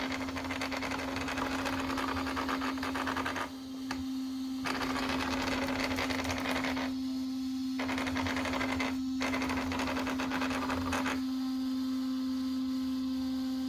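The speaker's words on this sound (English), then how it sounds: "What you're hearing in there is the motor of the fan running, keeping that ESC cool." A cooling fan motor on the ESC of an RC car runs close by as a constant steady whir with a strong even tone, its texture shifting slightly in a few short stretches.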